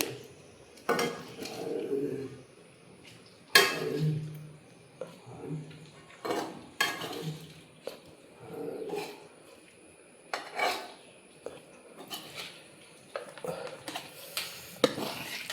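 A utensil scrapes and knocks around a hot pan while cooked raw banana (kaya) is stirred for a plantain upperi stir-fry in a home kitchen, giving irregular clattering strokes and rubbing with no talking.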